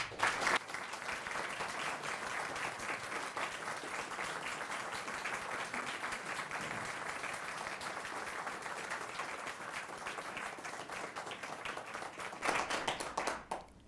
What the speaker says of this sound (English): please join me in giving a nice round of applause to the extended Hank